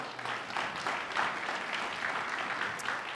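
A crowd at a primary-election candidates forum applauds, steady mid-level clapping from many hands that continues throughout.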